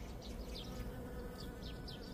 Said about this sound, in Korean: 크로커스 꽃이 한 400송이 정도 넘는데 송이송이마다 이렇게 꿀벌들이 모여있답니다